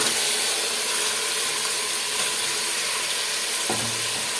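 Marinated chicken goes into a pan of well-sautéed onions for a hotel-style chicken gravy, giving a loud, steady sizzle close up with a brief knock of the spoon near the end.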